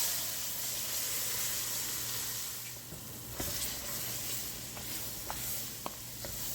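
Celery, green peppers and onions sizzle steadily in a gumbo roux, a dense hiss with occasional spoon clicks and stirring taps, close and continuous throughout.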